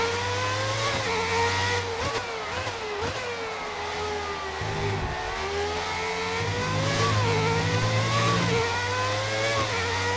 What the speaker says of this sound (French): Allez, oh là là, on patine énormément.